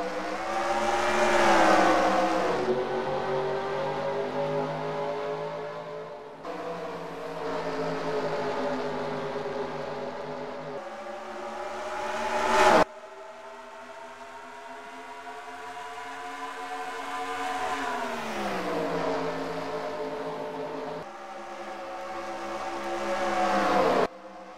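Race cars accelerate at the green flag start of the Circle K 150 race in the desert. Loud, layered engine roars rise and fall repeatedly as cars sweep past close by, with no talking.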